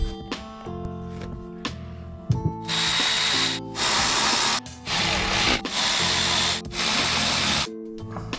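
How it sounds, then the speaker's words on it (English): Tight oil line hose being forced onto a fitting on a Polaris 8000 CTEC2 snowmobile engine with a long screwdriver and small pliers, heard as close scraping and rubbing with bursts of harsh hissing noise and metallic taps, no talk. "Trying to guide the hose on with a long screwdriver while I'm pushing up with that small pliers to force it"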